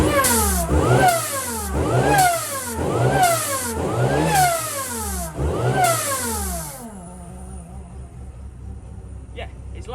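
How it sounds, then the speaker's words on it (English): A supercharged car with a loud exhaust revs hard five times in a steady rhythm, each blip rising and falling with a sweeping supercharger whine, then the engine drops back to a lower idle with a lingering high tone. "You can hear the supercharger whine."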